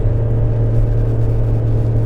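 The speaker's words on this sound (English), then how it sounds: "The car's, truck's downshifting." A truck descending a steep hill holds a deep, steady engine rumble with a constant low drone, heard from inside the cabin with no talking.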